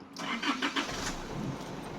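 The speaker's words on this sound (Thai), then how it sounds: "มาฟังเสียงเครื่องยนต์กันนะครับ" A 2013 Isuzu D-Max pickup truck engine cranks and catches, then settles into a steady, smooth idle close by.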